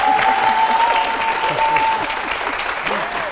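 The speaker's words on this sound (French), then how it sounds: "Merci d'applaudir pour lui." Studio audience on a French television show applauds a guest arriving on set, a dense, steady round of clapping with voices and a whistle-like tone mixed in.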